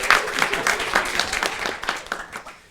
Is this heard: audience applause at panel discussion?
yes